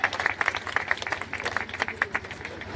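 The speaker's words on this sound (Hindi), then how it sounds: "तालियां बजती रहे।" A crowd at a political rally in Uttam Nagar claps in loose, uneven bursts, with individual hand claps standing out close by against a lively background.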